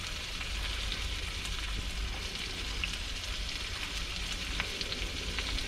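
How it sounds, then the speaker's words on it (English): Onions sizzle and crackle steadily in a frying pan, a dense, even hiss that stays close and fairly quiet throughout, with no talking. "I can chuck my onions in."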